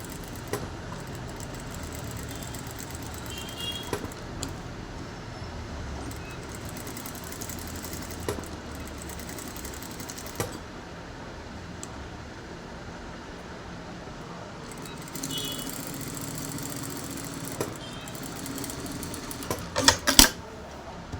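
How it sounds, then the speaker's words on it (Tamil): A sewing machine stitches along a blouse neckline with a continuous close mechanical hum and rapid needle clatter for most of the stretch, with brief pauses and a few louder clicks near the end. "அதில் என்ன கழுத்து டிசைன் இருக்கோ அதை அப்படியே நான் ஸ்டிச் பண்ணிக்கிறேன்"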